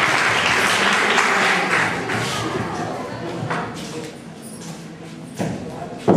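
Applause from an audience at a college department get-together party, a dense clatter of clapping that holds steady for a few seconds and then thins and fades, with voices mixed in.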